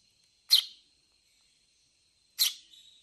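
A young sparrow gives two short, sharp, high chirps about two seconds apart, each sounding alone against a quiet background with a faint, steady high tone.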